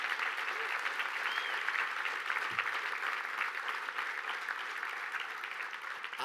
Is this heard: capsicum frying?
no